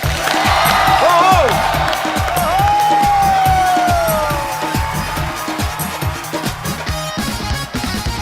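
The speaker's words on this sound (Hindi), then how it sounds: "आपकी जोरदार तालियों के बीच स्वागत कीजिए" A television comedy show audience applauds and cheers loudly as a guest is welcomed, with a steady wash of clapping under bright music tones.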